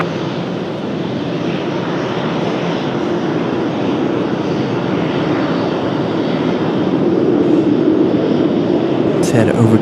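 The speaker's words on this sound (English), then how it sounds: "Here comes that 737 holding up the Dreamliner and Porter." A Boeing 737 airliner taxis at Washington Dulles airport on a cloudy day, its engines a steady, loud broadband roar that holds for the whole stretch with faint voices underneath.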